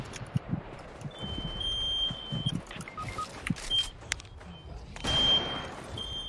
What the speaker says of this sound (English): He got a smoke alarm?